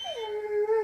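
Athena the dog lets out a single drawn-out whimper, a thin high whine that slides down in pitch and then holds, close and clear.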